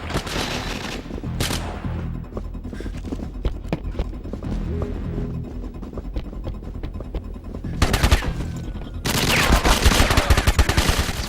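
Silenced gun fire in a multiplayer video game, delivered as quick repeated shots and short bursts with a few louder blasts toward the end, under game background noise and no talking.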